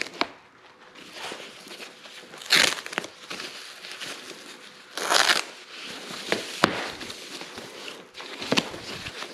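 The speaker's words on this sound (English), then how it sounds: "Take this tape off." Packing tape torn and peeled off the well-wrapped packaging of a rear spoiler for a Genesis sedan, a series of close crinkling, ripping bursts with crackly pauses between pulls.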